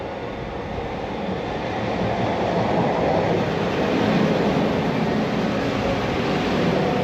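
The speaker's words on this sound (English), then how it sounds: "Look, there's a train coming." A train rumbles steadily closer into a Peak District station, its broad roar swelling and holding loud without any talking.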